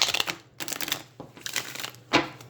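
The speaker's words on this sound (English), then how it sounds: "I am going to do just a quick shuffle for you" Tarot cards shuffled by hand in a few quick bursts of papery riffling and slapping, close and fairly quiet, with short pauses between passes and a sharper snap near the end.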